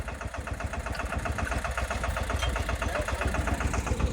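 A Ferguson tractor engine runs steadily with a rhythmic, throbbing chug that holds an even pace throughout.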